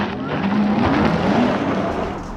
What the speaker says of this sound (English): Porsche Taycan GTS Sport Turismo with launch control